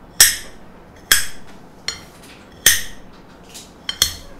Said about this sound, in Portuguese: Vai cortar o alho, ó, em cubinho